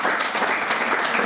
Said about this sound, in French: Encore vos applaudissements